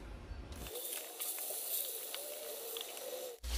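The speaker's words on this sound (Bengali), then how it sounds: "এখন আমি মিষ্টি কুমড়াগুলোকে এই তেলের মধ্যে হালকা একটু ভেজে নিব।" Turmeric- and salt-coated pumpkin pieces sizzle in hilsa-frying oil over an outdoor clay stove in England, a steady soft hiss and crackle that ends with a brief clatter.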